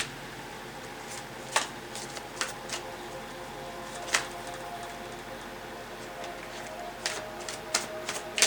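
Tarot cards being shuffled by hand, giving a series of soft, scattered riffling clicks and flutters at close range over a quiet background, with a few sharper bursts spread through.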